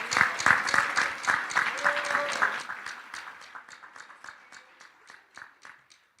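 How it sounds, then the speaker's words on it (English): A room applauds a volunteer named Lori: a round of clapping, steady at first and thinning into scattered claps as it fades. "Let's give her a round of applause"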